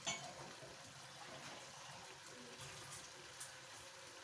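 A small amount of water poured into chicken curry with bell peppers in a pot, a soft, faint trickling splash lasting a few seconds.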